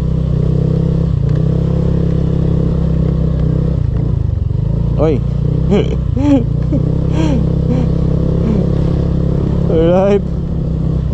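Small scooter engines, a Honda Click and a Mio, drone steadily as they climb a mountain trail, the low hum running throughout with occasional revs, while a rider speaks briefly over it.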